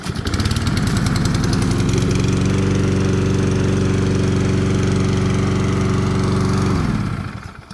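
A lawn mower engine fires up on a single pull after being refuelled from empty, then runs loud and steady at close range for several seconds before cutting off near the end.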